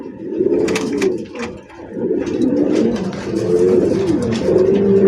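Pigeons at a farm coo in rolling, overlapping calls, close and fairly loud, with soft rustling and a few sharp clicks between phrases.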